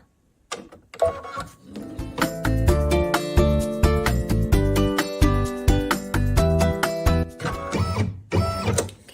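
An embroidery machine stitches a tack-down line through batting and tape in an ornament hoop. It gives a loud, rapid, steady mechanical chatter of needle strokes that runs for several seconds, then slows and stops near the end.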